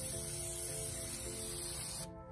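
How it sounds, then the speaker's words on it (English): Aerosol brake cleaner spraying on the rear brake parts of a 2016 Cadillac ATS, a close steady hissing burst lasting about two seconds before cutting off abruptly. "spray off all the old rust"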